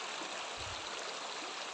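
A jungle river streams steadily nearby, a continuous broad wash of flowing water with a soft low bump partway through and no voices.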